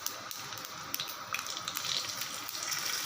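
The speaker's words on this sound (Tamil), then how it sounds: "தாளித்து நம்ம சட்னியில் ஊற்றிடலாம்" Hot oil tempering of mustard seeds, urad dal and curry leaves poured into chutney, a steady bright sizzle with crackling pops, close and continuous without talk.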